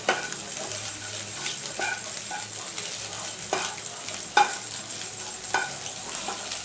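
Food frying in a pan, a steady close sizzle with intermittent scraping and stirring knocks, no voices.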